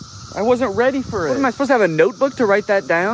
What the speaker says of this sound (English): It's the year of the cicada and they're everywhere.